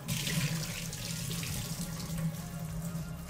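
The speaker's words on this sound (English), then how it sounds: "I'll fill it up again with water" Tap water runs steadily into a jar of soaking garbanzo beans, a close, continuous rushing pour with a low resonant tone as the jar fills.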